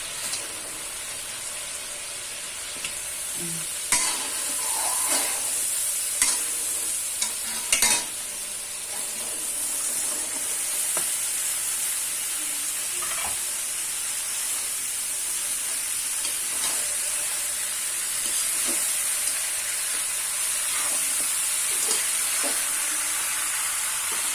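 Chicken frying in oil for a curry is stirred in a pan, a continuous bright sizzle and hiss with scattered scraping clinks of the spoon, close and steady throughout.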